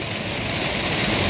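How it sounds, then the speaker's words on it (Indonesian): Heavy November rain at seven in the morning pours down steadily and loudly in a dense, even hiss with no pauses, close and alone with no voices. "Saat ini suasananya hujan lebat."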